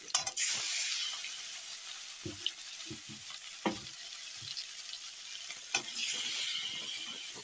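Fish pieces frying in a pan give a steady close sizzle, broken by several short scrapes and taps as a spatula turns and shifts them.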